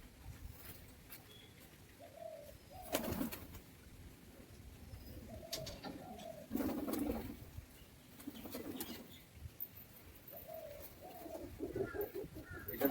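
Soft, low pigeon coos repeat in short phrases every few seconds during courtship, with occasional wing flaps and faint outdoor background noise.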